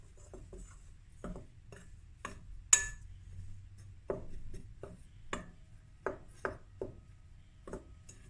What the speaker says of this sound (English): now I'm going to stir the dry ingredients